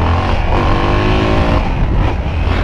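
Small-displacement motorcycle, a meiota, revving hard as it lifts into a wheelie, a loud continuous engine roar with rising harmonics close by, no voices.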